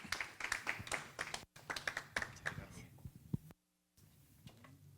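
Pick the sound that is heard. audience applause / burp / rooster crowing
audience applause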